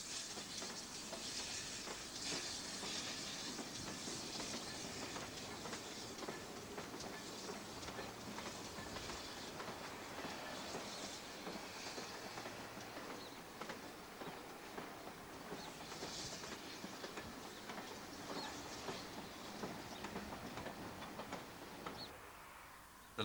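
A steam train runs along a heritage railway line, heard as a steady, fairly faint rumble with rhythmic clicking of wheels on track and a hissing wash, continuous and without speech.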